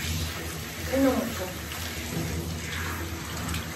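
Shower water runs over an English setter in a steady hiss of spray, with a brief splashy swell near the start, and a person talks quietly over it.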